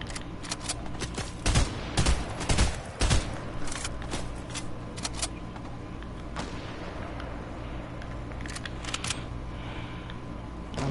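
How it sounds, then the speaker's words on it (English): Gunfire in a PS4 shooter: bursts of rapid shots cluster in the first few seconds, then scattered single cracks and short volleys continue more faintly over a steady game background. "Who keeps on trying to shoot at me, I swear."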